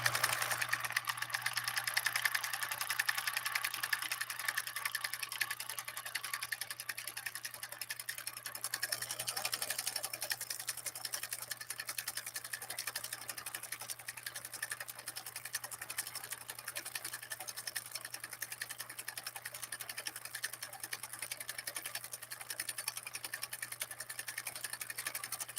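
A Husqvarna Viking 2000 sewing machine runs continuously with a fast, even needle chatter and a low motor hum, steady and fairly quiet throughout with no talking.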